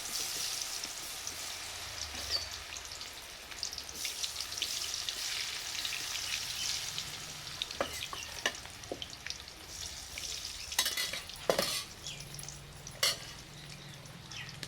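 Pieces of young jackfruit (bela pinju) fry in hot oil with a steady, dense sizzle and crackle. Occasional sharper pops and clinks come through as pieces are dropped in or moved.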